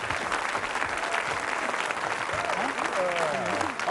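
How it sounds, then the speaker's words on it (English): Studio audience applauding game show contestants, a steady wash of clapping from a crowd, with a host's voice talking over it toward the end. "Let's give a nice round of applause"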